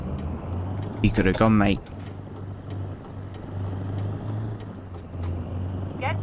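A truck's air brake gives a sharp hiss in Euro Truck Simulator 2, heard once over a steady engine drone. Someone speaks briefly near the hiss, and faint beeps come in later.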